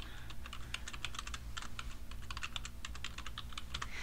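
Keys clatter on a computer keyboard as an email address is typed in, a quick, irregular run of light clicks going on steadily and fairly close, with no voices.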